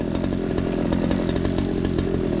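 A brush cutter cutting grass near a house by a road, its small engine revving in a loud, steady, buzzing drone throughout, close up and alone.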